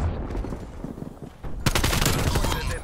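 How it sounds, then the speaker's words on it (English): An automated sentry turret in Call of Duty: Black Ops Cold War fires rapid, continuous bursts, dull distant shots at first and then a loud, close, sustained stream of gunfire. "Hostile sentry turret active."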